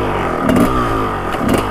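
A Kawasaki KX250 dirt bike engine runs steadily at close range, a loud, buzzing idle with two brief throttle blips.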